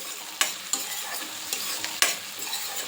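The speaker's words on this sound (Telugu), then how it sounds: "ఉల్లిపాయ ముక్కలు వేస్తున్నాను గోల్డ్ కలర్ వచ్చేంత వరకు వేయించుకోవాలండి" Chopped onion pieces frying in oil toward golden, with a bright steady sizzle under several sharp spoon-and-pan stirring clacks at irregular intervals, close by and without talk.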